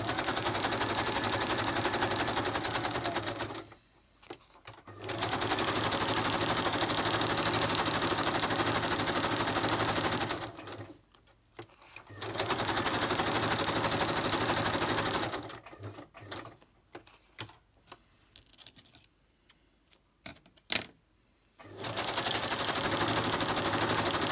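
A sewing machine zigzag stitching around napkin collage pages, running in long steady whirring bursts separated by pauses, with short stop-start stitching near the end, close and loud.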